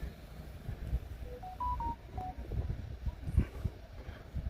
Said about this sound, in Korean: 왜 갑자기 카톡이 많이 오고 그래 이거